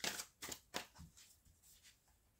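Tarot cards are shuffled for a five-card draw, making a few quick riffling bursts followed by softer, scattered card slaps and rustles, close and fairly quiet.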